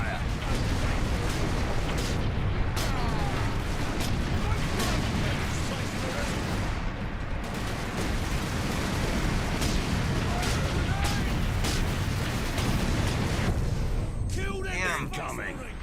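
Incoming artillery fire and explosions on a Space Marine video game battlefield, a dense, continuous roar of blasts and rumbling impacts throughout, with game voices shouting over the din.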